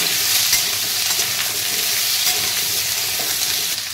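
Potatoes for alu posto fry in hot oil in a pan, giving a steady, dense sizzle that stays even and close throughout, with no voices.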